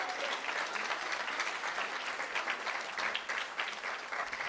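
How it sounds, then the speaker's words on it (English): Sustained applause from an audience at a school board meeting, a steady dense clapping that fills the room for several seconds with no voice over it. "Let's give them a round of applause."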